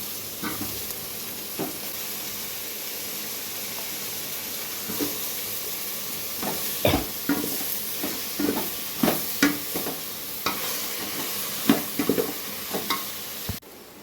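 Steady frying sizzle of brinjal and potato in tempering for sambar, with scattered stirring scrapes and clinks of a spoon against the pan growing more frequent toward the end.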